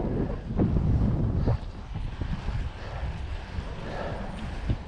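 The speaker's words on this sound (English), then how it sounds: "Hey, headwind." Headwind buffets the microphone while riding a bicycle along the New York State canal trail between Mohawk and Little Falls, a steady low rumbling roar with gusty surges and a few soft thumps, no talking.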